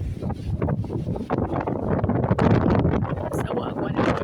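Strong hurricane wind gusting outdoors during Hurricane Melissa in Jamaica, a loud, continuous broadband roar that surges and buffets the microphone throughout.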